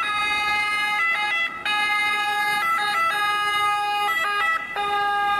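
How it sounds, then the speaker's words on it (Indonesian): A toy ambulance siren wails in a bright electronic tone, stepping between pitches in a repeating pattern, loud and close, with no talking. "Wah, ada mobil ambulan"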